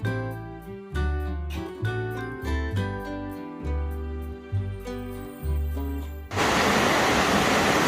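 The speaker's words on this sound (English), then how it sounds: "This is the suspension bridge over the Thru River" A river rushing beneath a shaky suspension bridge on the Appalachian Trail, a loud, steady broadband roar that takes over abruptly after several seconds of tonal music.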